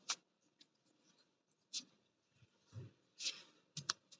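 Sparse, faint clicks and taps from a keyboard being typed on, arriving in a few irregular bursts separated by near silence.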